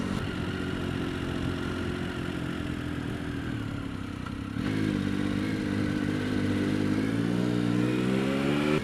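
A motorcycle rides along a rough road, its steady engine drone climbing in pitch as it accelerates, with clattering from loose fairing panels mixed into the continuous noise.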